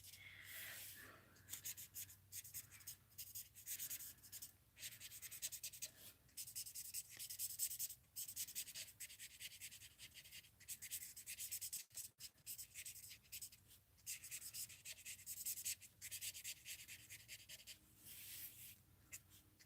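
A DG2 marker scratches and rubs across blending paper while filling in a tree, a near, soft, continuous stroking with quick short pauses between strokes, no voices.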